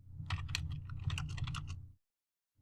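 Rapid keystrokes clatter on a computer keyboard while terminal commands are typed in Kali Linux, a dense run of sharp clicks for about two seconds, then a pause before another key press.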